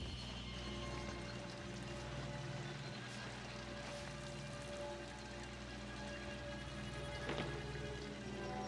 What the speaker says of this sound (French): Pourquoi il pleut?